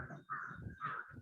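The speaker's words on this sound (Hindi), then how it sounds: "कुछ कुछ पंछियों की आवाज आ रही है" Crows caw outdoors in a cool open setting, two or three harsh, close calls in quick succession.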